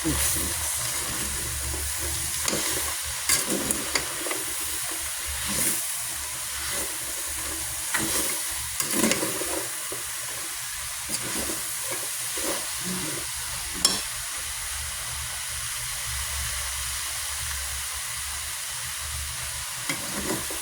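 Sautéed bottle gourd (upo) with sesame seeds sizzles steadily in a pan while being stirred, soft scraping and hissing close by, with a voice speaking at times over it.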